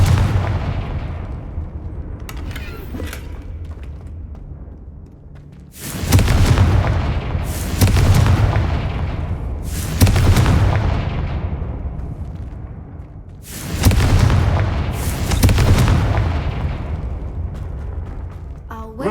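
Confringo spell explosions in the Hogwarts Legacy video game go off as five loud booming blasts in two clusters, each roaring and fading, over a constant game background hum.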